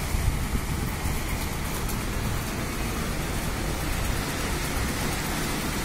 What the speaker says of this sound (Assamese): বৰষুণ হৈ আছে।